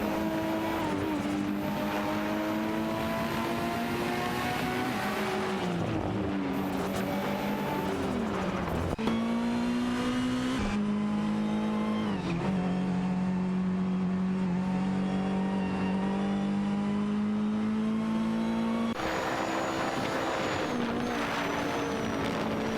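Racing cars roar continuously in a video game, BMW M3s and a Nissan Skyline GTR R32 among them, with loud sustained engine tones shifting pitch as they accelerate and change gear, no talk over them.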